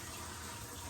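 A faucet fed by a garden hose runs water into the sink of a 1964 Airstream Globetrotter trailer during plumbing tests, a steady, quiet, close hiss with no pauses.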